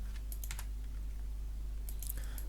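Keys tapped on a computer keyboard, likely the Z shortcut, during 3D clothing design software work: a few quick, light clicks near the start and another small cluster near the end, faint over a steady low hum.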